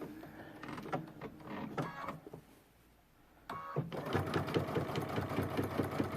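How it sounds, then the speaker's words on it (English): Close by, a sewing machine runs a knotting stitch in steady rhythmic bursts, pausing for about a second of quiet before resuming at an even, driving pace. "I'm going to do a knotting stitch this time."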